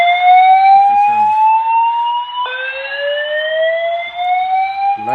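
A fire alarm control panel sounds its evacuation tone, a loud, piercing electronic whoop that sweeps upward and repeats, with a faint rapid chirping beneath it.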